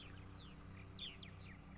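Purple martins calling around nest housing on a summer morning on eastern Long Island, New York: a scatter of short chirps and descending warbles, fairly close, over a steady low background hum.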